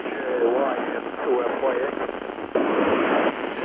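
An amateur radio transmission received during an International Space Station pass: a voice talks continuously through a narrow, tinny radio channel with a steady hiss of static underneath, and the signal jumps louder near the end.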